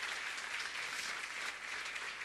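Audience at a Jain religious gathering clapping in sustained, dense applause, steady and fairly faint, with no talk over it.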